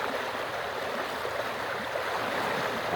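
Floodwater rushing along a stream where fish are caught with a lift net, a steady broadband gushing wash, close and constant, with no voices.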